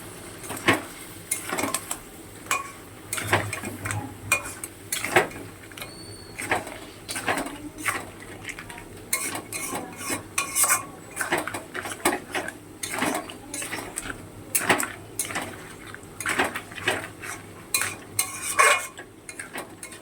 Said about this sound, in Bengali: এটা আরও 5 মিনিটের মতন ভালো করে কষিয়ে নেব মশলাটা